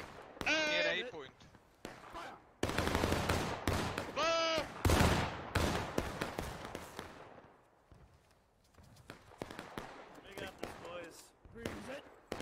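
Rifle volleys in the War of Rights video game crack out as sharp bursts, with a loud ragged volley in the middle and scattered shots after it, heard under shouted commands and talk from several players.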